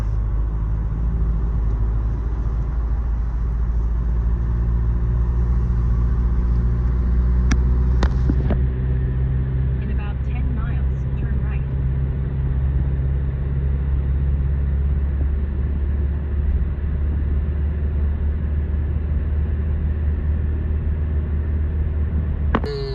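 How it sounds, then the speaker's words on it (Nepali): A new Toyota Highlander SUV cruises a mountain road toward Blowing Rock and the Linn Cove Viaduct in mid-October fall weather. A steady low engine and road rumble drones inside the cabin, with a few brief clicks and no talk. "नयाँ हाइल्यान्डरमा हामी जाँदैछु"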